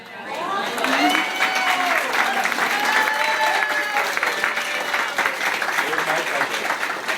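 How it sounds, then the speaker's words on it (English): An office audience at a corporate gathering breaks into a round of steady, dense applause that holds throughout, with voices chattering and calling out over the clapping. "I think we should just give you a round of applause."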